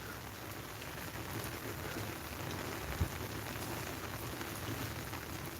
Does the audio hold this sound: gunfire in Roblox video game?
no